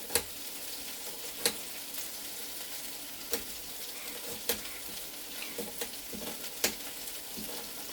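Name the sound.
potatoes frying in a pan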